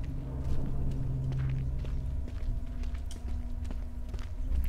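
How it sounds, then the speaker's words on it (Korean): Footsteps walk nearby in the horror video game Wick, heavy thuds repeating through a dense, rumbling game soundscape with no voices. "옆에서 걷는 소리가 나"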